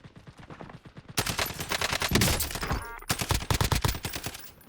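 SCAR assault rifle fire in Warzone: a long stretch of rapid, loud, close automatic shots in tight succession, with a brief pause before another burst.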